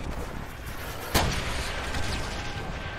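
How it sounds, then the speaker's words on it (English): A Panzer tank fires once in Call of Duty: World at War, a single loud, sharp cannon blast that cuts through steady battlefield noise, followed by a rumbling tail. "I'm seeing the Panzer tracks shoot once,"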